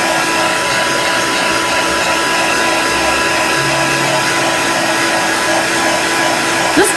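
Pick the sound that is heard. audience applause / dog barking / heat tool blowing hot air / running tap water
heat tool blowing hot air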